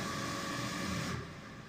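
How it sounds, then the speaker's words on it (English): Dragon roar sample played unstretched in Kontakt, a dense, loud, sustained roaring rasp filling the whole range, steady for over a second before thinning and easing off near the end. "This is the Dragon Roar unstretched"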